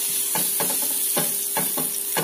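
Ghee or oil heats in a pan for potato pastries, giving a continuous bright hiss broken by several short scraping, sizzling bursts as the pan is stirred.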